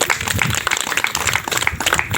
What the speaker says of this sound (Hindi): चलिए आप लोग बहुत अच्छा ताली बजाइए